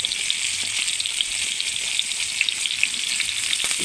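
Potatoes, stalks and carrot sizzle in hot oil while being fried for Bengali shukto, a steady close crackling hiss with small pops throughout.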